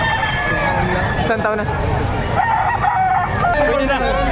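A rooster crows loudly and close at the Padre Garcia livestock auction market in Batangas, amid clucking fowl and a busy babble of people talking nearby.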